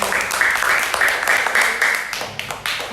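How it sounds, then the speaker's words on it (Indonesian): Applause from a seated group in a classroom fills the space with dense, steady clapping for a few seconds before fading slightly, with no talk over it. "Beri tepuk tangan lagi."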